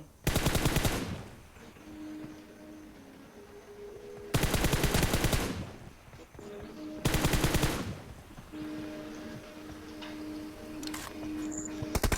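Bursts of automatic gunfire from a mobile shooting game played on a phone against a tablet: three loud, dense rapid-fire volleys separated by quieter stretches of game ambience.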